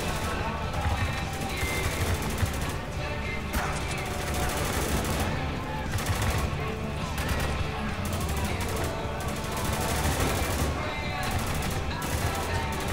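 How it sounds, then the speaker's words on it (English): Sustained gunfire in the video game Spec Ops: The Line, dense bursts of rifle and machine-gun shots rattling continuously and loudly throughout, close and chaotic with battlefield noise underneath. "Where are they shooting?"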